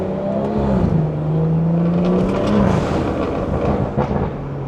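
A loud BMW 340i B58 engine revs and whirs during a drive, its pitch climbing, dropping at a gear shift, then climbing again, up close and with no talking.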